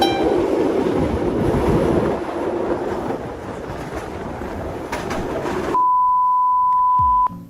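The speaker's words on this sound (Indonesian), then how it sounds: "sekarang aku mau naik kereta Malabar, keberangkatan pagi dari stasiun Bandung ke stasiun Yogyakarta" The Malabar passenger train at Bandung station rumbles and clatters along steadily, then a long electronic beep tone sounds near the end over quieter background.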